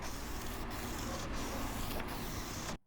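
A fogged headlight lens is hand sanded with a coarse grit pad from a restoration kit, producing a steady close rasping scrub with a few brief pauses in the stroke.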